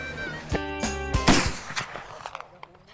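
Black powder rifle shots at a Creedmoor long-range match, several sharp reports close together in the first half, each with a short ringing tail, fading into quieter background afterward.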